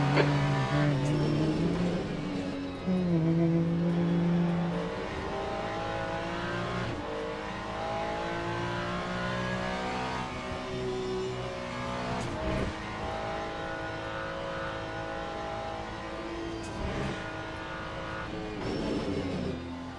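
A race car in Le Mans Ultimate, during a multiclass multiplayer endurance race, revs hard through shifting gears, its engine note climbing and dropping. Another car passes alongside, loud and close, with no talk.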